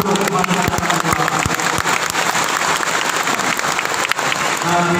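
A large crowd in an indoor sports hall at a Muhammadiyah 107th anniversary rally gives loud, dense applause that fills the space, with a voice heard over it.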